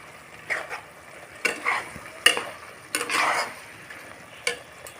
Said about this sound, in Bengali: দিয়ে ভালোভাবে নেড়ে চেড়ে আমি মিশিয়ে নেব